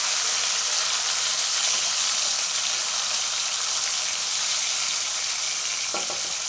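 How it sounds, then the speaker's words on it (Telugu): Tomato pieces sizzle loudly in hot oil during tempering for an amla chutney, a constant close hiss with a brief stir or clatter near the end. "అందుకే మీకు అవన్నీ తాలింపు సౌండ్ అన్నీ వినపడతాయి"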